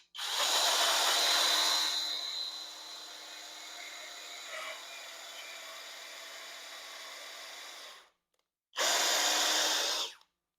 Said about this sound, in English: We're going to drill into this wood, into the other wood.